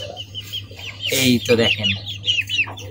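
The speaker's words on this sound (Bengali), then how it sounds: "এই ফ্রিজেল জাতের মুরগিগুলো" Frizzle breed chickens cluck and chatter nearby in a steady series of short calls, with someone speaking briefly over them partway through.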